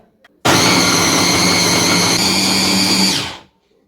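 A loud, steady whirring food processor motor grinds continuously for about three seconds pureeing hot peppers, then winds down and stops.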